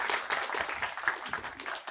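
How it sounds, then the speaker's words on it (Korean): An audience claps steadily to welcome the director at a final project presentation event for an AI practical-skills training program. The applause is dense and continuous, with no speech over it. "박수로 환영해 주세요"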